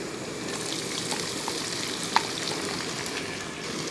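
Sliced onions and ginger fry steadily in a pan, a soft continuous sizzle with faint crackles throughout and one brief sharp tick near the middle, no voices.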